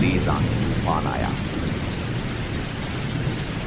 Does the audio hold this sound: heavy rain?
yes